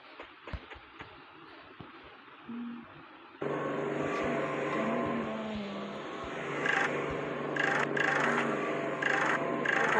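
Aircraft engine in the Free Fire video game, a steady loud drone that starts abruptly and holds with rising intensity and some higher whine, after quieter game sounds at the start.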